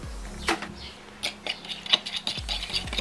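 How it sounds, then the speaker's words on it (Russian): A fork beating two eggs in a separate bowl, giving quick irregular clinks and taps against the bowl over a low background hum, fairly close and without talk. "Теперь берем вилку и хорошо взбалтываем."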